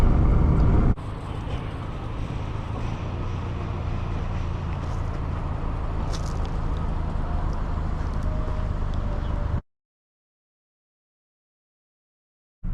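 A 2006 Subaru Forester 2.5 X with a 2.5-liter engine drives along while its transmission shifts crisply. Steady cabin engine and road noise runs for about nine seconds, then cuts off abruptly to silence.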